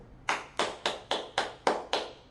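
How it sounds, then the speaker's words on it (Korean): Seven slow, evenly spaced claps sound alone in a quiet room after a Korean talk, each sharp and distinct. "박수 한번 쳐주세요."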